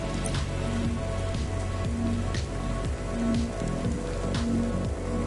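Steady rain falls in the video game Cloudpunk outside a small restaurant, a continuous patter of drops on surfaces with soft game music tones underneath, constant and close throughout.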